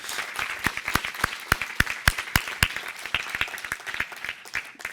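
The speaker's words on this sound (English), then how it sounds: "So a big round of applause for our mentors." An audience applauds mentors at a student research lightning-talk event, steady clapping from a room of people that continues at an even level throughout.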